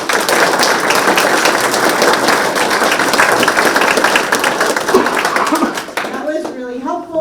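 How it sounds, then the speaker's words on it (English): A community forum audience claps together in a dense, steady burst of applause lasting several seconds before fading out into a few scattered claps and a voice. "So let's give them all a big round of applause."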